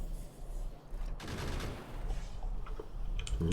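Gun turrets in Factorio fire on attacking creatures in a rapid, overlapping volley that swells into a dense burst of shots and stays loud and continuous to the end.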